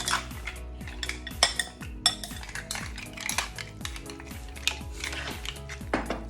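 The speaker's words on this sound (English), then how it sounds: "I'm gonna go ahead and add our mussels in" Mussels tumbling into a pan of seafood pasta, bright clattering shell clinks and metallic pan scrapes in a quick irregular series, close and fairly loud, with no voice.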